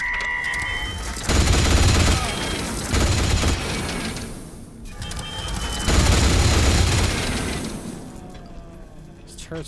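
Turrets in the video game Atomfall fire repeated loud bursts of gunfire with booming impacts, coming in two heavy waves with quieter gaps between, while a player talks over the action.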